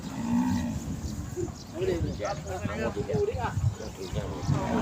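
Cattle at a Thai cattle market, with beef cows and cow-calf pairs on sale, lowing amid a noisy crowd; people talk constantly over and around the animal calls.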